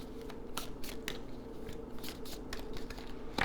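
Tarot cards are shuffled up close in quick papery riffles and flicks over a steady low hum. The sound is soft and continuous with brief crisp bursts, and no one talks.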